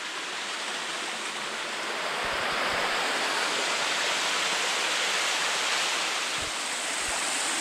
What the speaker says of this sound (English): You gotta climb up this part, right up the side of the waterfall.